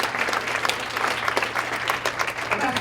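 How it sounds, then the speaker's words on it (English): Teen conference audience applauding steadily for about three seconds, a dense wash of many hands clapping at even loudness with no talk over it. "Can we get a hand clap for that?"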